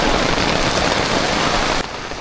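Heavy rain falls at a large fish market in Hosenpur, a loud, dense, continuous hiss of drops hammering nearby surfaces that drops suddenly to a softer patter near the end.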